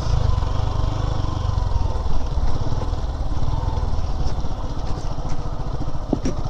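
A 2021 Suzuki Gixxer motorcycle being ridden, its engine giving a steady, loud, rumbling drone throughout with faint clicks near the end.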